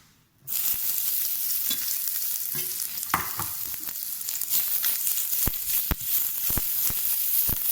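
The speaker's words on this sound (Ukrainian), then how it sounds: "будемо підсмажувати до прив'ялення" Sizzling oil hisses steadily in a pan, with occasional sharp pops and crackles as chopped onion fries and gets stirred.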